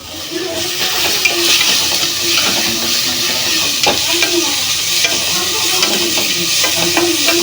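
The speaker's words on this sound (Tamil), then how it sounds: "இன்னும் வெங்காயம் நல்லா வதங்கணும்." Onions and tomatoes sauté in a pan for a village-style cauliflower and soya chunk veg biryani, a steady close sizzle running throughout with scraping stirs and occasional clinks of the spoon against the pan.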